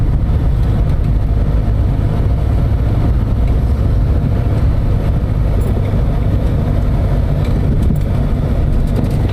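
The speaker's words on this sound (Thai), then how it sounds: "แล้วเร่งอัตราการเร่งแรงมากครับ เดี๋ยวพุ่งให้ดู" A Daihatsu Mira L80 with a 660 cc turbo engine and automatic gearbox accelerates hard, giving a loud, continuous engine roar with heavy low rumble and no pauses.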